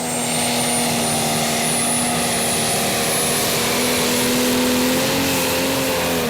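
A Prostock pulling tractor's engine roars loud and close during a tractor pull at Brande, Denmark, a sustained high-revving drone with steady pitch that climbs slightly toward the end, with no voices.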